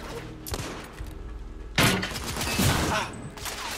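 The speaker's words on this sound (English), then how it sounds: "It's a grenade launcher, right?" Grenade launcher fire in the video game The Order: 1886, with a heavy burst of blasts and thuds near 1.8 s following an earlier sharp shot, all loud and close over a dense background of game combat noise.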